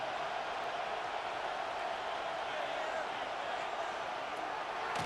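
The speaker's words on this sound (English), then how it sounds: "This crowd into it now as we get to 3rd down." Stadium crowd noise in the Madden 26 football video game during a Falcons Monday Night Football matchup, a steady broad roar of cheering that holds at constant loudness as third down approaches.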